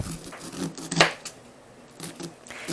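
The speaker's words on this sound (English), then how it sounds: "Just cut it off the cob." A knife slices fresh corn kernels off the cob while canning corn at home, making a series of short scraping, tearing strokes close by, with one sharper cut standing out among the softer passes.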